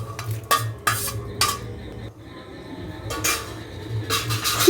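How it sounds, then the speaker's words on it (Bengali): A spatula stirs basanti polao in a pot, scraping and clinking against the metal in several sharp bursts separated by quieter pauses, close and alone. "এবার খুন্তিটা দিয়ে আরও একবার ভালোভাবে মিশিয়ে নিন"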